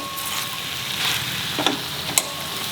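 A flat beans vegetable dish garnished with coconut being stirred in a hot pan, a constant bright sizzle with two or three distinct spoon scrapes near the end.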